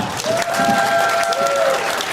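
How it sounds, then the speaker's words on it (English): Loud applause from a fan festival audience at the closing ceremonies for anime music video contest winners, a close, full wash of clapping with a whistle-like tone cutting through the crowd noise. "Give them all a big round of applause."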